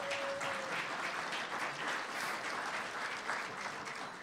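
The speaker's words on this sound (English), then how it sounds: "if you look over there and give them a round of applause." At a council meeting, a crowd applauds the staff with sustained, even clapping heard from a short distance at moderate volume, with a faint brief tone near the start.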